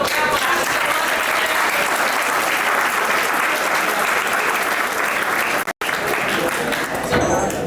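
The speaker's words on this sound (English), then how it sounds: "Big round of applause for Raghu" Engineering college students in a hall give a loud, dense round of applause for an ISRO team's interaction session. The clapping runs steadily and evenly for several seconds, briefly drops out near the end, then carries on.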